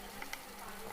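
Onions frying in a pan in a home kitchen, a steady soft sizzle and crackle throughout, faint and continuous with no voices.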